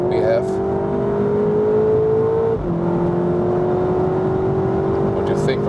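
Steady engine drone and road rumble inside a Seat Leon Cupra 300 hp all-wheel-drive with DSG gearbox, cruising around 160 km/h on a flat racetrack, with a brief shift dip midway and a voice talking over it.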